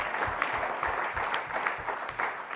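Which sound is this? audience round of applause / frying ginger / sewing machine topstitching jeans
audience round of applause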